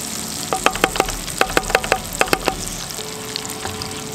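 Fish fries in a pan with garlic, butter and basil, giving a steady loud sizzle with a series of sharp pops and crackles spaced through it, close up and without talking.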